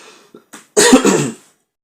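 A single close, loud cough after a couple of faint breaths, short and harsh, then silence.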